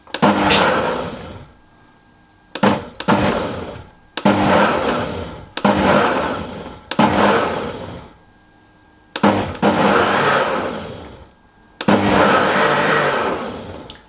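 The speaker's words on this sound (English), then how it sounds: "I'm just going to go over to chop or pulse even. I think I'm going to use pulse." Blender pulsing carrot and coriander soup in seven short bursts, each a loud whirring grind of a second or so, separated by brief pauses, with no talking.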